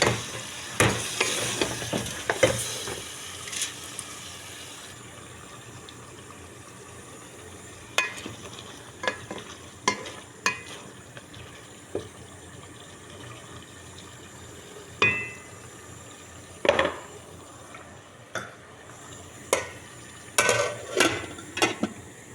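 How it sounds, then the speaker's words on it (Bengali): Chicken sautéed and stirred in a pan for a curry, with intermittent scraping stir strokes over a soft, steady sizzle, close and moderately loud, no talking. "এদিকে মুরগিটা কষাইতেছি"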